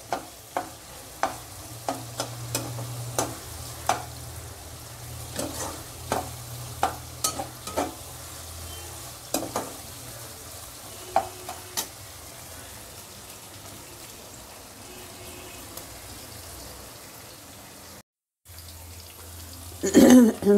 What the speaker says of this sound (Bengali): ভাজা ভাজা হয়ে গেছে ক্যাপসিকাম আর পেঁয়াজটা